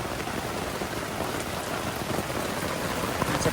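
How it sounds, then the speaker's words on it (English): Heavy rain pours steadily onto a tent on the Appalachian Trail, a dense, continuous close hiss and patter with no talk. "Look at all that rain."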